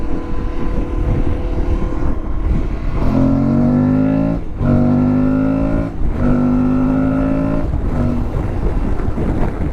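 An Aprilia Tuareg Rally 2025 motorcycle engine revs and accelerates through several gears, each pull rising in pitch before a brief dip at the shift, loud and close under wind rush.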